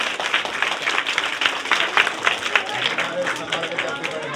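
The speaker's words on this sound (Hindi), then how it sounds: "एक बार फिर से ताली बजाओ इस बच्चे के लिए" Schoolchildren clap together in a government village school classroom in Hasanpur, Mewat, a dense, sustained burst of many small hands applauding for several seconds, close and lively.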